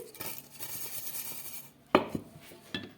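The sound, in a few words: mixing paneer with sugar in a bowl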